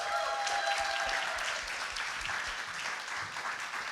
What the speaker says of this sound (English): please give a big round of applause to Mayura!